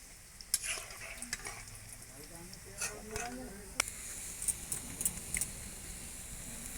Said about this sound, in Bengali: বাকিগুলো আমি এরকম ভাবে ভেজে নেব।